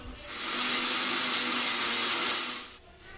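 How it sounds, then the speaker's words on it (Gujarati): A mixer grinder crushes soaked urad dal for dosa batter, a steady loud whirring grind that runs continuously for about three seconds and then begins to wind down at the end. "હવે આપણે ચોખા અને અડદની દાળ રાત્રે પલાળીને મૂકી દીધી હતી તો હવે મિક્સરમાં ક્રશ કરી દઈએ."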